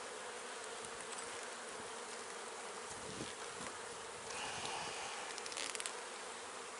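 Dense buzzing of many young honeybees around an open spring hive box, a steady close hum with no talking.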